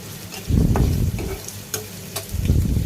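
Onions sizzling in hot oil close up, with scraping stirring sounds that swell and fade in bursts.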